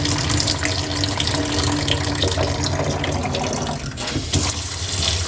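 Water rushes steadily out of a water heater being flushed during a tune-up, a continuous loud gushing that stays even from start to finish with no voices.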